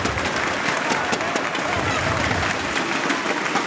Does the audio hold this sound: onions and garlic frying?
no